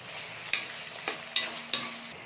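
Chopped onions and tomatoes sauté in a pan with a soft, steady sizzle, punctuated by four sharp scrapes or taps of a spoon against the pan.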